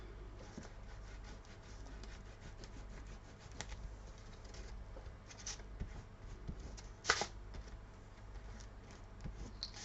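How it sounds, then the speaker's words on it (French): Paper is glued and pressed down by hand while making a Paris-themed mini album, a faint, close rubbing and smoothing with soft scrapes and one sharper rustle partway through. "Maintenant, on va coller notre papier."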